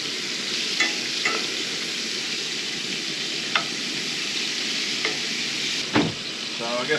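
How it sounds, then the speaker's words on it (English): Onions frying beside burgers on a camp stove during truck camping make a steady, dense sizzle, with a few sharp clicks and scrapes from a utensil; close and even, no talking. "I think I'm going to go ahead and throw in the onions."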